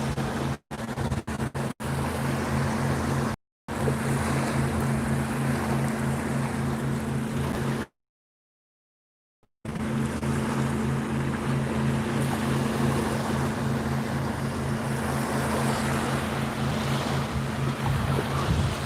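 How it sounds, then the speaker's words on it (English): A boat with a V8 454 engine runs out at sea off Cape May, a steady droning hum beneath wind buffeting the microphone and wave wash, cut by brief dropouts. "Definitely sounds like a V8, like a 454 in there."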